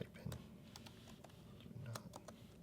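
Keystrokes on a computer keyboard while entering text into label-printer software for a Brother QL-800, a few quiet scattered taps and clicks sitting under a low background hum.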